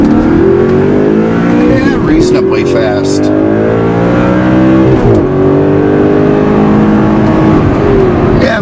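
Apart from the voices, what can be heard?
Audi R8 engine revving while accelerating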